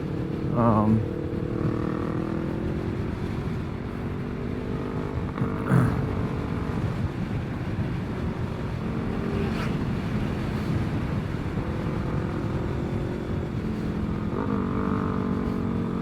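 A small motorcycle engine buzzes past with a steady drone and shifting pitch, under a continuous low background rumble.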